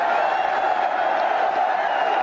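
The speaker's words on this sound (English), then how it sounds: "Big cheer here" Cricket crowd at a one-day international between India and Australia, a dense continuous roar of cheering and whooping that holds steady and loud throughout.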